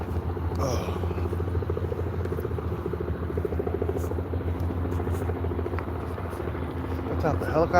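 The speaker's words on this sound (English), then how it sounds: "You got a helicopter flying around this time of morning?" A helicopter flies overhead in the early morning, its steady rotor thrum and low engine drone continuous and fairly loud throughout, with a person talking over it.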